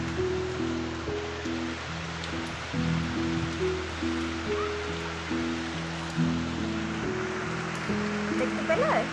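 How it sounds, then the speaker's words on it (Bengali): Heavy morning rain pours down in a constant, even hiss, heard beneath background music that continues throughout. "এই দেখো বৃষ্টি হচ্ছে"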